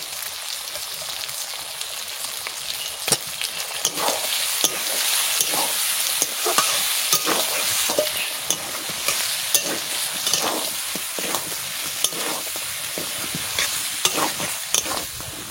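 Meat and potatoes frying in a pan for a mutton or chicken curry, with constant sizzling and frequent sharp spatula scrapes and knocks in an irregular rhythm, close and lively, no voices.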